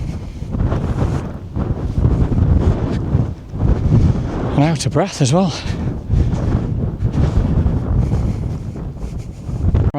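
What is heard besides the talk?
wind blowing on hilltop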